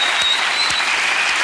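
A talk show studio audience claps in a dense, steady burst of applause that carries evenly from start to finish.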